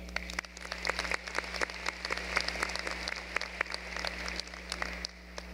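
Graduating high school students giving themselves a round of applause, a steady crowd clapping with distinct sharp claps standing out over a moderate, fairly distant wash.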